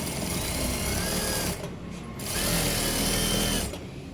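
An electric sewing machine top stitches a garment seam, a loud close steady whir running in two long bursts separated by a brief pause, then a short tail, with no voices.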